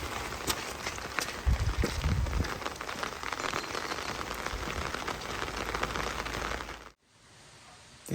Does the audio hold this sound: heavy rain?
yes